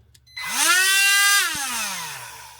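A small rotary tool with a bent shaft spins up with a rising whine, holding a high, harmonic-rich buzz with a wobbling tone, then winding down slightly; close and loud.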